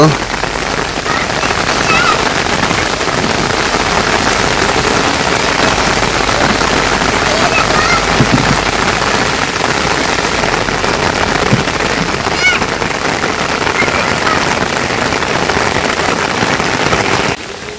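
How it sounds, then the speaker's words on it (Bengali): Heavy monsoon rain pours down in a Bangladeshi village, a loud, dense, continuous patter that fills the whole scene without letup. "তো বৃষ্টি আবারও জোরে নেমে গেল"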